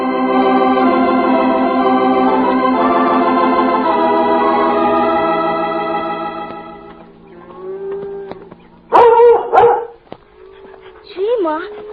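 A radio-drama farmyard scene where a big dog barks sharply among lowing cattle. The moos and a sustained organ-like tone come first, then loud short barks follow, with a voice speaking over them.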